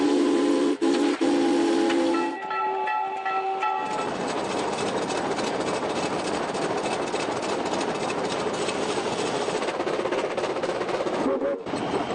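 A steam train rumbles and hisses as it slows, with a steady roar of running gear and brief whistle-like tones near the start.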